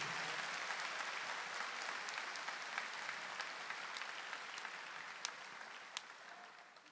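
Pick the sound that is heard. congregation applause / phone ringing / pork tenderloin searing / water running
congregation applause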